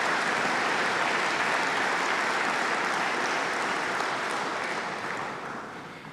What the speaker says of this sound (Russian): Аплодисменты нашим предприятиям.